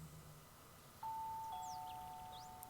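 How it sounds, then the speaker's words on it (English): A cartoon-like doorbell in a visual novel game, two clear sustained chime tones ringing one after another, with faint bright twinkly accents above and no talking. "The bell at Ito's house sounded like it came right out of a Disney cartoon."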